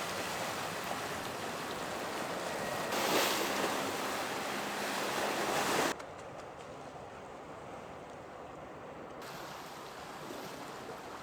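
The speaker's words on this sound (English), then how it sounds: "the waves lapping." Waves lapping at the shore in Avalon on Catalina Island, a steady broadband wash with a louder surge midway, then a quieter, softer stretch; no talking.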